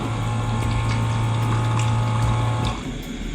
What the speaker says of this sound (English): Actually, the water that you should be adding here should be warm, but I will add cold water in this case.